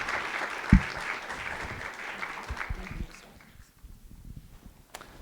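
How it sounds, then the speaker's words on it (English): Audience applause at a data journalism and law panel event greets a guest joining the stage, a brief burst of clapping that fades out after about three seconds into near quiet. "Everyone, if you could give a round of applause for Jason as he joins us on the stage."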